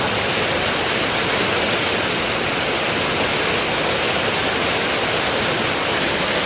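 Heavy rain pouring down outdoors near a bathroom under construction, a dense, loud, unbroken wash of noise lasting several seconds with no voices.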